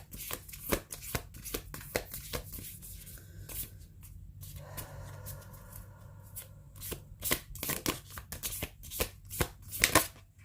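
An oracle card deck is shuffled by hand, with quick riffling bursts and soft taps of cards, close and fairly quiet, pausing briefly in the middle before the shuffling picks up again.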